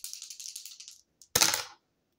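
A quick clatter of small hard objects tumbling, a series of rapid light knocks for about a second, then one sharper burst of rattling before silence.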